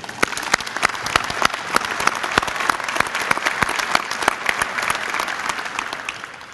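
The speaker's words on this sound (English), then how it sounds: "Give them a round of applause." A round of applause from the audience at the Round House building dedication: dense, steady clapping from a crowd, loud and sustained throughout with sharp individual claps standing out.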